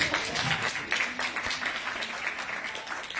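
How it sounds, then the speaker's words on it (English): Audience applause at a gathering, a steady wash of many hands clapping throughout, moderately loud and without any clear voices over it. "let's give her a applause"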